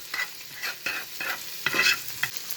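Honey garlic chicken with fresh garlic sizzles and spatters in a hot pan as it is basted, a steady close fry broken by repeated scraping strokes of the spoon, with no voices.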